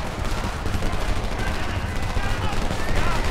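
Rapid bursts of gunfire in the first-person shooter Homefront, loud and dense, a continuous rattle of shots with no clear pauses.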